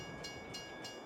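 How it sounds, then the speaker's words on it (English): A freight train in the Farming Simulator video game rolls steadily into the station, a continuous rumble with faint clicks repeating at a regular pace, alone without voices. "Okay, well, train's here."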